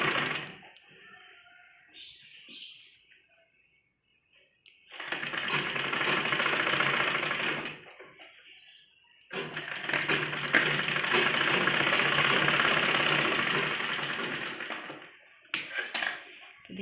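A sewing machine runs in two long bursts, stitching along the folded edges of a net baby frock for a 6–7 year old, with short pauses and handling noises in between.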